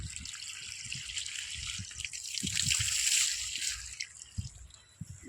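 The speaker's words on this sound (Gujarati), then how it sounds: "ડુગળીમાં પાણી ચાલુ કરી દીધું છે" Irrigation water runs into an onion field under hot sun, a steady hissing trickle and splash that swells midway, with light knocks and handling noises nearby.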